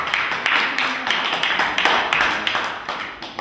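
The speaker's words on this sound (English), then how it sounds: "A round of applause for Rob." A poetry lounge audience in Leicester gives a round of applause for Rob, brisk steady clapping from a handful of people close by for a few seconds.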